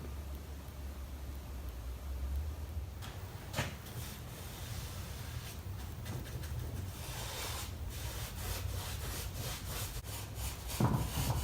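Pallet wood shelves are sanded by hand with rough, rhythmic scraping strokes close by, a steady gritty rubbing with no talk.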